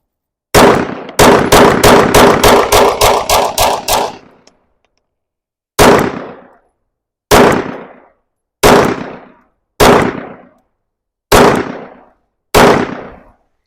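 A Sig P365 pistol built on an FCU fires a magazine outdoors: a quick string of about ten loud cracks, a pause, then seven more shots fired one at a time with gaps between them.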